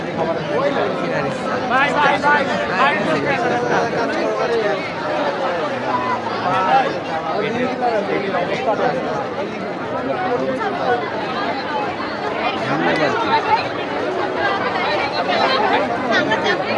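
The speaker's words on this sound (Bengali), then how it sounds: "বাবা, কি পরিমাণ ভিড়" A dense crowd chatters continuously at a Baishakhi fair at Khulna University, a loud, unbroken hubbub of many overlapping voices close around, with individual speakers surfacing now and then.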